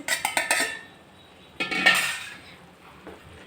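Cooked vegetables for Gujarati undhiyu tipped into a pot and stirred: three quick metallic clinks of a spoon on the pot, a pause, then a longer scraping, sliding clatter that fades, with no talking.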